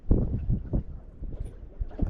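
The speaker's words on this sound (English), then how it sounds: "it's pretty windy. There's quite a breeze" Gusty wind buffets the microphone on a small sea fishing boat off the UK coast in uneven low rumbling bursts, with no voices.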